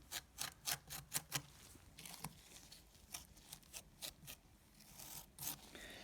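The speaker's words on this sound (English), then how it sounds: "So when you put the stick and Sculpt and Stick on down and scrape it in" Sculpt and Stick coating is scraped smooth over mesh with a tool, a series of quiet rasping strokes coming in quick bursts and then at a slower, uneven pace, close and alone.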